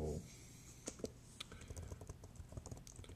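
Typing on a computer keyboard in an algebra calculator search box, a quick close run of light key clicks with a faint hum beneath and no voices.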